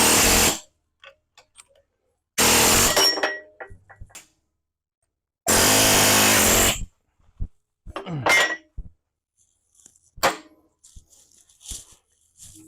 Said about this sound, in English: we're going to go after this thing with the air hammer and see if we can break these chunks off